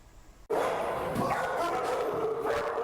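Dogs at a rescue shelter housing more than 60 dogs bark and yip over and over in a loud, busy chorus that begins abruptly and fills the kennel space.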